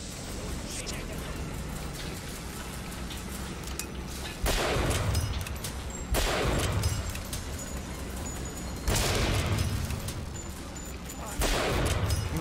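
Gunfire in Bioshock Infinite comes in several loud, sustained bursts over a constant rushing game background, each volley roaring for a second or two before easing off.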